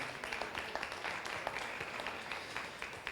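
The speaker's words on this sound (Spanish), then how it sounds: "Le doy un aplauso al Señor por eso." A church congregation applauds briefly and softly, a faint patter of many hands clapping at some distance in a reverberant hall.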